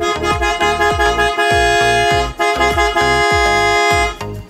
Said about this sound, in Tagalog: pakinggan natin yung kanyang sound check